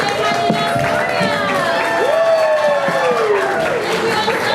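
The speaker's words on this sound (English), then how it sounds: "let's give yourselves a big round of applause for coming to the closing weekend" Close and lively, a theater audience cheers, whoops and claps at a closing-weekend show, with high shouts rising over the steady applause throughout.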